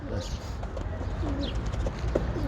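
A pigeon coos in low, repeated soft calls close by, with someone talking over it.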